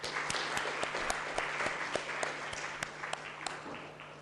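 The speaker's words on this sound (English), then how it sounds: "In a huge round of applause" An audience at an MOU signing ceremony for a Karachi wastewater treatment plant breaks into steady applause, many hands clapping in a dense, even patter heard at a moderate distance.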